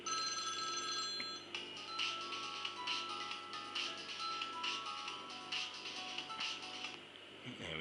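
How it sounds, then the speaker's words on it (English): A ringtone plays from an HTC HD2 phone, a sustained electronic melody of repeated bright tones, fairly faint and close, with a brief voice near the start. "So at the minute I can just choose ringtone and I can change that."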